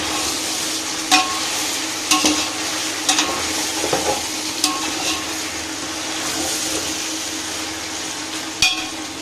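Chicken sizzling and frying in a pot for dum biryani, stirred with a utensil that gives occasional sharp scrapes and clinks over a steady close hiss.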